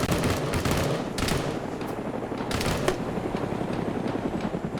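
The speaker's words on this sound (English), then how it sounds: "So you got those suppressed weapons firing." Suppressed weapons fire in a Cold War Arma battle between British SAS and VDV troops, a dense continuous rattle of shots overlapping with no break, loud and busy throughout.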